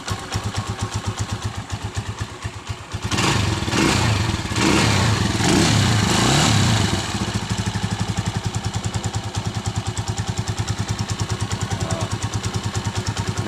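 Motorcycle engine idling with a steady rapid putter while its idle speed is adjusted. The revs rise to a higher, smoother pitch for a few seconds, then settle back into the even chugging idle.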